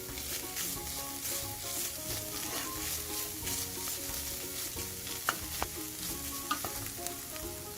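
Dried oregano, thyme and coriander powder frying in a pan for potato lasagna, stirred with a spoon: a steady close sizzle with soft scraping and a few sharp clicks of the utensil against the pan near the end.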